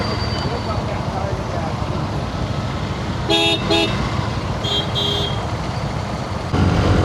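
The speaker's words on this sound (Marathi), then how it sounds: "ट्रॅफिक खूप मजबूत झाले." Steady heavy road traffic in Ratnagiri rumbles throughout, with two short bursts of car horn honking in the middle, close and loud.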